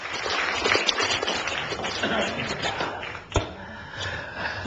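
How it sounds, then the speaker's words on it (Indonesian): A studio audience at an Indonesian talk show applauds a puppeteer with broad, dense clapping that runs steadily and slightly fades, punctuated by one sharp thud near the end. "Tepuk tangan untuk Dalang yang luar biasa."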